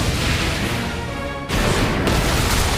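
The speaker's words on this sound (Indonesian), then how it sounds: "Cerita anime ini dimulai dengan memperlihatkan sebuah tempat yang tiba-tiba meledak." An explosion in the anime Magi, where a place suddenly blows up, a dense roaring blast with a sharp burst of rumble partway through, loud and close, with no talking.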